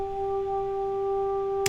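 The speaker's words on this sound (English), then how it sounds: "And then next up is some French horns" Soft French horns in an Ableton Live arrangement sustain a quiet, steady harmony chord, held smoothly without breaks before cutting off with a small click.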